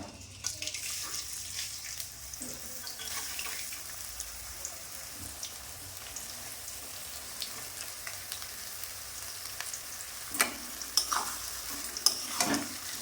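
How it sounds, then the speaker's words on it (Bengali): Sliced onions sizzle steadily in hot oil in a pan while a spatula stirs them, with scraping clicks and louder bursts of stirring toward the end, for a Old Delhi style chicken korma. "পেঁয়াজগুলো দিয়ে দেব। বেশি গরম হলে পেঁয়াজ পুড়ে যাবে।"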